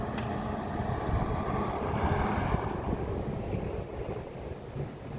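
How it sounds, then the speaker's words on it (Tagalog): Airplane passing over Davao City, a steady broad roar with wind buffeting the microphone throughout, no talk over it. "Yan, may eroplano."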